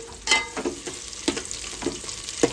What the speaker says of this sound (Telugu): ఇట్లనైతే వేగాలి గైస్, మంచిగా ఫ్రై కావాలి.